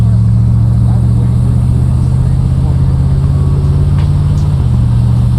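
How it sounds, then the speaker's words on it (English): A 1974 Corvette Stingray on a drive, its engine droning loudly and steadily close by, the pitch climbing then dropping near the end as the automatic shifts into the next gear. "I want it to shift through all the gears so you can see how smooth it is"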